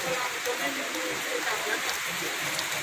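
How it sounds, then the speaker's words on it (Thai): Rain pours down during a storm as a steady, dense hiss that holds at an even level the whole way through. "ฝนตกนะครับ"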